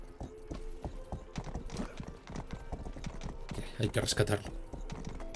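Horse hooves clip-clop in Rustler, a medieval-style action game, a brisk irregular patter of hoofbeats with mechanical rattles alongside, while someone speaks over them.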